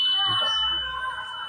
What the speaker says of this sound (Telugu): కింద పడతానే బీప్ సౌండ్ ఉంటుంది సార్.